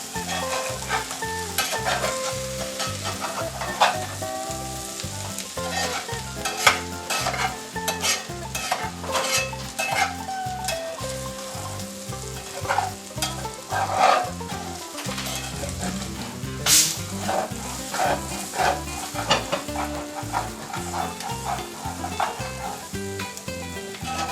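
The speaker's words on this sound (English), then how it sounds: "Give it another stir. This is all browning up nicely." Hillbilly hash browning in a frying pan sizzles steadily while a utensil stirs and scrapes it in a continuous rhythm, the frying close and fairly loud with no voices.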